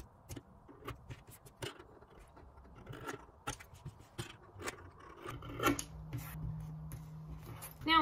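Scissors snipping through stiff fabric for a homemade face mask, a series of close, crisp cuts and rasps at an uneven rhythm over a quiet background hum.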